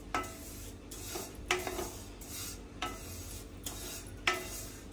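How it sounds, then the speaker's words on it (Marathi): Vermicelli dry-roasting in a pan, with a soft rustle under repeated spoon scrapes and stirs against the metal about once a second, quiet and close. "अगदी 2 मिनिटं भाजून घेते मी शेव"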